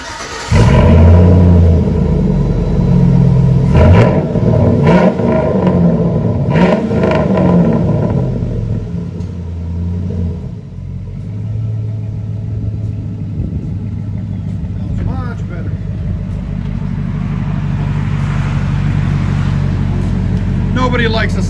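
A Chevy/GMC V8 truck with dual exhaust, revving loudly with deep rumbling bursts close to the microphone, then settling into a steady idle rumble.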